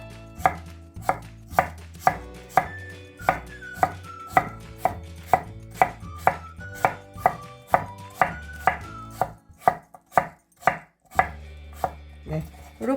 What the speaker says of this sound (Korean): 이렇게 썰어 주셔요